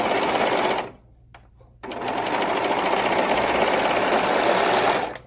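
A sewing machine stitches the top of a dress in a fast, steady whir, pauses briefly, then runs on again at the same even pace, close and loud.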